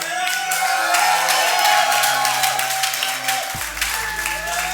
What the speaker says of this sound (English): Guys, we want to take a look at you. We want to see you cheer.